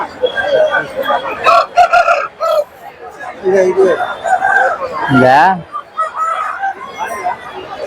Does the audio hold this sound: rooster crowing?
yes